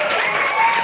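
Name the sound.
audience applause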